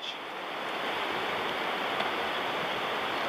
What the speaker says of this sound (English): May not look like it, but this is a pretty fierce rapid, about one foot waves.